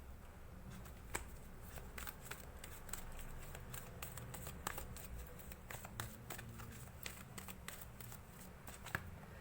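Tarot cards shuffled and handled in a quiet room during a reading, a steady soft rustle broken by small crisp snaps and flicks as the cards are riffled and cut.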